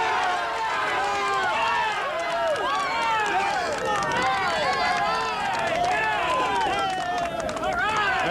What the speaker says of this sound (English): Millions of people cheering across the country, none harder than right here on Queens Boulevard